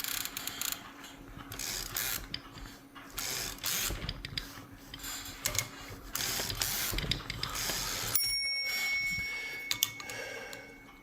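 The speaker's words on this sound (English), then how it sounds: "So let's bring it up and then run it across the carriage." A Royal 10 manual typewriter's carriage is run across its travel, giving a quiet, close series of ratcheting escapement clicks and mechanical rattles that end in a brief metallic ring.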